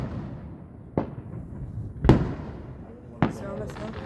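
Fireworks burst over a neighborhood in three sharp booms about a second apart, the last one with crackling tails, against a steady rumble of background noise.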